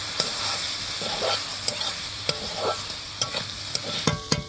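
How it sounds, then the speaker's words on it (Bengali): Small potatoes stir-fried with pigeon meat in a pan: steady sizzling and frying with repeated sharp scrapes and clacks of a spatula stirring against the pot at an irregular rhythm. "আলুটা এখন কষিয়ে নেব মাংসের সাথে।"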